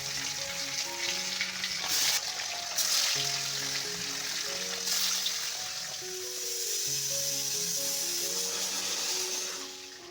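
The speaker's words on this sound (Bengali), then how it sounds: "আর এখন নুন হলুদ মাখিয়ে চলো মাছটা ভেজে নিই।" Fish rubbed with salt and turmeric fries in a pan, giving a soft continuous sizzle and hiss that sits under gentle background music, with a few brief louder spatters.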